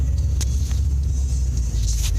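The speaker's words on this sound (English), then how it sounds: "that guy's car is way too noisy" A loud car rumbles past close by, its deep, steady engine drone filling the moment with a slight swell and no voices.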